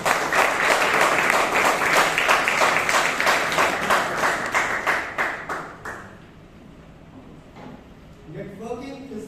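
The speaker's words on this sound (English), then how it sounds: "Round of applause," Applause from the audience at a Toastmasters meeting in Bangalore, brisk sustained clapping for about six seconds that tapers off before a speaker starts talking.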